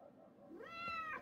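A cat in the video game As Dusk Falls gives a single soft, drawn-out meow that rises in pitch, quiet and alone.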